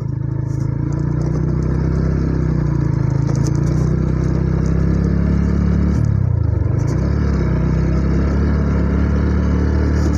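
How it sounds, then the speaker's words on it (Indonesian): A vehicle engine roars as it climbs a steep, dusty road, a loud continuous drone with a brief dip in pitch and then a rise again, alone with no voices. "Mesin meraung-raung."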